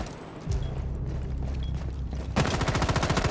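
Gunfire in Rainbow Six Siege: quieter game ambience gives way to a loud, close burst of rapid automatic shots near the end.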